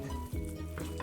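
Sweet potato jam cooks over low heat as a spoon stirs it, making a brief close bubbling and scraping sound with faint utensil contact, no talk.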